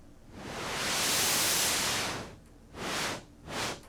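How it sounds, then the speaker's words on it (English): A Korg Prologue 16 synthesizer's pink noise swells into a long hiss, fades, then returns in two shorter bursts, with no voices. "So it's almost kind of like a pink noise."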